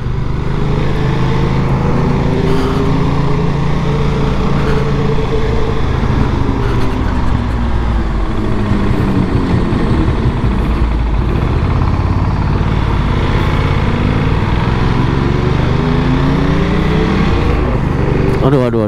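A supermoto motorcycle engine drones steadily and loudly while riding, a continuous rumbling hum that holds without pause throughout.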